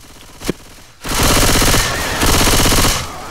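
A single gunshot in a video game cracks out, then a half-second later a loud, sustained roaring blast erupts and rumbles on for over two seconds as the shot gas can goes up.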